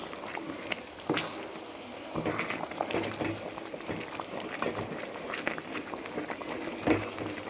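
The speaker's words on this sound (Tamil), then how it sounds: "நல்லா கிண்டிக்குவோம்" Thick halwa stirred in a kadai, giving soft bubbling and wet slapping with irregular scraping strokes, close and moderately quiet.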